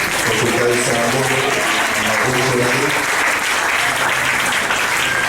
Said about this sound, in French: Il peut encore une fois le manifester par les acclamations.